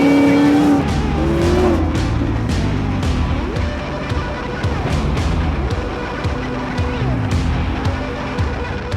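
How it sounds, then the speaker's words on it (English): A supercharged Coyote 5.0 V8 in a widebody 1956 Ford F100 drives along, its loud engine drone holding steady with shifting pitch and sharp transient pops throughout, close and continuous with talk over it. "We're cruising around in this 1956 Ford"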